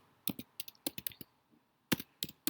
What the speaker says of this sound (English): So let's go ahead and type it out.